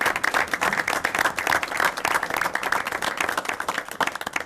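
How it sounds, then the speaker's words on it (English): Steady round of applause from the audience at a police jury meeting as students stand, dense continuous clapping filling the room for several seconds. "We'll give them a round of applause here."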